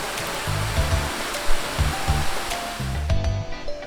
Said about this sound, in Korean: 폭포는 2단으로 이루어져 있고